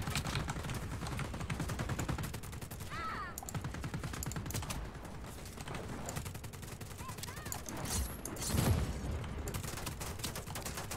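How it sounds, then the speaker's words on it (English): In Just Cause 4, a tank fires at the player: steady, low-level battle noise with repeated shots and a heavier boom near the end, faint and fairly distant under the game's ambience. "Oh, it's a tank shooting me"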